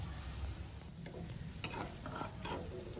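Kala jamun fry in oil in a home kitchen while a metal spatula stirs them, a quiet, faint sizzle with a few soft scrapes and clicks, no voices.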